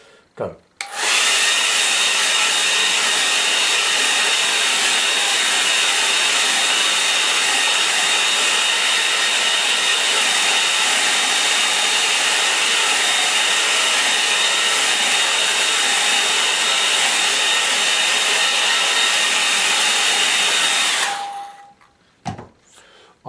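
A hair dryer blows steadily on a watercolour painting, a loud, close, continuous whine and rush of air for about twenty seconds before it clicks off, with a brief word spoken near the start.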